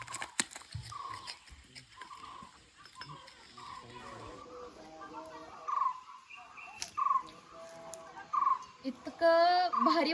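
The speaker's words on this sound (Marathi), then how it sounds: "पक्ष्यांचे आवाज येतात अगदी सुंदर." Birds chirp and call intermittently in hilly countryside at sunset during a day camping outing, with brief louder chirping bursts toward the end over quiet outdoor ambience and occasional low voices.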